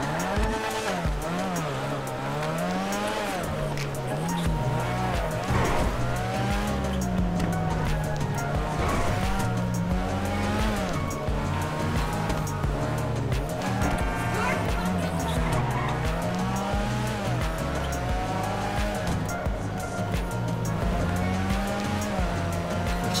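Annis Savestra classic sports car in GTA 5 Online, engine steadily revving and shifting through the gears with tire squeal, running continuously and loud at close range.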